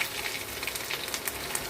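Cumin seeds and dried red chilies sizzle in hot oil for a jackfruit dal, a steady close crackling hiss with small pops throughout.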